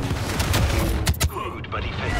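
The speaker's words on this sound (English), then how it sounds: "I'm so tired of being fucking shot in the back in this game" Video game gunfire comes as dense, rapid bursts of loud shots and booms close up, with a brief lull before the firing picks up again.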